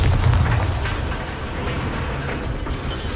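A Bombarda explosion spell cast in Hogwarts Legacy, a heavy booming blast at the start with deep rumble that fades into a sustained roaring tail.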